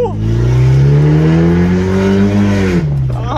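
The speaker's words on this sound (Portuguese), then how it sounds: "sente o ronco da X1 N46" A BMW X1 with an N46 engine roars loudly and steadily through its exhaust pipe for about three seconds, the pitch climbing slowly before dropping off near the end.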